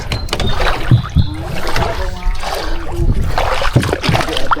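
Water sloshes and splashes against a small boat hull in shallow water, with knocking and rustling up close and a few faint voices in the background.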